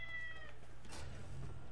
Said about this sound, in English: Do you guys hear my cat screaming?